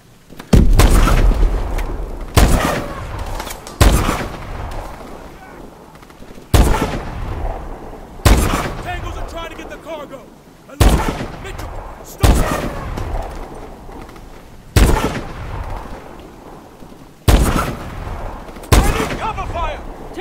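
Heavy gunfire and explosions in a Call of Duty: Advanced Warfare battle, a series of loud booming blasts every second or two, each trailing off, with shouted voices mixed in.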